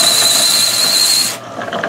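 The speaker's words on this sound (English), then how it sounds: "I turn the drill on, and basically I can start and stop and get this thing down to the right size" Electric drill spinning a wooden filler dowel as it is sanded down to size for a 1967 Fender Coronado II headstock, giving a loud, steady high-pitched whine for over a second before it cuts off, followed by quieter rubbing.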